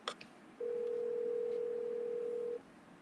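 A telephone handset carries a single long, steady ringback tone of about two seconds on an outgoing call, preceded by faint clicks, quiet and clear with no talking.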